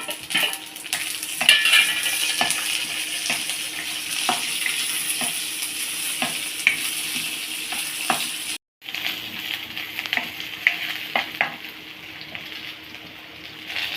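Onion and coconut sizzling steadily in a hot pan while being stirred, with frequent light clicks of a utensil against the pan, close and continuous, broken by one brief pause.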